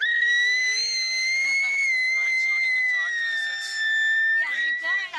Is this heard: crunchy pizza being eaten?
no